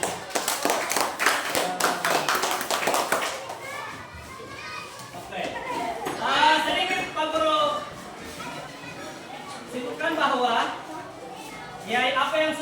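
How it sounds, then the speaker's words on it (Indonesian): A classroom of children claps briskly for a presenting group, dense rapid clapping for a few seconds, followed by children's chatter and a teacher's voice talking. "Oke, tepuk tangan dulu."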